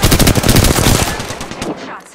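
Rapid automatic gunfire in the video game Apex Legends, a dense loud burst of shots fading out over about two seconds with no talk.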